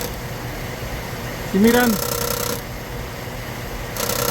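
A 2009 Chevy Silverado engine runs with a steady mechanical hum, with a noise traced to a cracked plastic part near the starter. The sound is constant and mid-level throughout, and someone speaks briefly over it.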